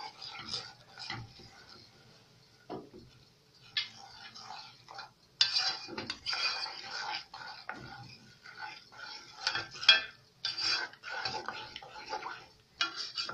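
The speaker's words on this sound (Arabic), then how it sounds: "شايفين بقى بقلبه على طول." A spoon stirs chocolate hazelnut sauce in a pot, giving soft repeated scraping and light clinks against the metal at an uneven rhythm, with a voice talking over parts of it.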